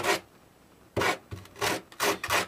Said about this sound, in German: Auch bei diesem Ei müsst ihr noch ein bisschen die Kanten abschleifen.